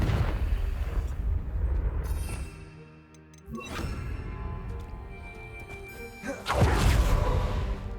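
Confringo blasting spell going off in Hogwarts Legacy: a loud, dense explosive burst that rumbles and decays, then a second sharp blast hits near the end, with no talk over it.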